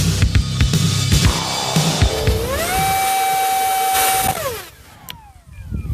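Rapid clicking gives way to the high whine of a 50 mm electric ducted fan motor on an RC jet, spinning up, holding a steady pitch for a couple of seconds, then winding down and fading.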